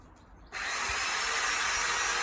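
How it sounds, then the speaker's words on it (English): A power drill bites in abruptly after a half-second of quiet and runs loud and steady to the end while a plastic Keter Scala shed is being assembled. "Lots of drilling to do now."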